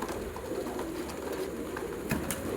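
Flock of Punjabi flying pigeons at a seller's shop, cooing steadily over a constant background hum, with a few brief sharper sounds near the end.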